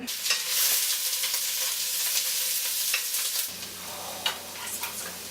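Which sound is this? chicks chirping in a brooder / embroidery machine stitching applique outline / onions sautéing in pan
onions sautéing in pan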